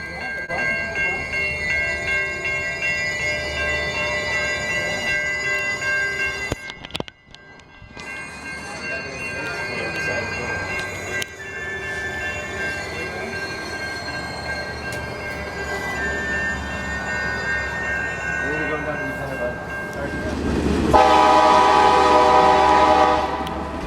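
A train led by two SD70MAC locomotives on the Alaska Railroad rumbles past nearby with steady grinding wheels and squealing tones, and a loud horn blasts toward the end.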